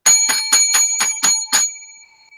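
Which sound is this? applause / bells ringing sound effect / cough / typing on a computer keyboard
bells ringing sound effect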